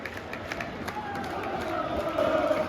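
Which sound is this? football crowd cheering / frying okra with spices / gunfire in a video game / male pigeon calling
football crowd cheering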